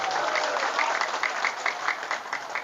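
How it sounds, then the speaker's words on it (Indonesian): Brief, moderately quiet applause from an audience at an Islamic religious talk, a steady patter of claps lasting a few seconds. "Tepuk tangan, ayo."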